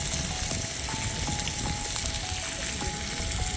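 Steak seasoned with salt and pepper, ringed with thyme leaves and chopped garlic, sizzles loudly and continuously in a hot pan, a dense, even crackle of frying with no voices.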